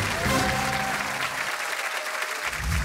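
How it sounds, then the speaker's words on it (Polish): Applause from a studio audience on a Polish televised brain-skills competition show, a dense steady wash of many hands clapping throughout, with some low tonal background sound underneath. "Wielkie brawa!"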